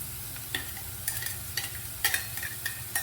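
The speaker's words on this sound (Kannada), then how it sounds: "ಈ ಸ್ಟೇಜಲ್ಲಿ ನಾವು ಇಟ್ಕೊಂಡಿರೋ ಬೆಳ್ಳುಳ್ಳಿ ಮತ್ತು ಶುಂಠಿನ ಹಾಕೋಣ" Garlic and ginger frying in a pan for a bitter gourd palya, with a steady close sizzle and repeated spatula strokes scraping across the pan.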